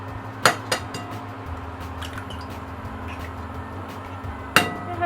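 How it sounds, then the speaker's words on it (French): Four eggs cracked for an eggplant and goat cheese clafoutis, two sharp taps on a bowl rim near the start and another near the end, with soft kitchen clatter and a low hum between. "je vais casser mes 4 œufs"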